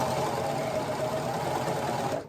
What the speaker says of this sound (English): Curves suck on a serger.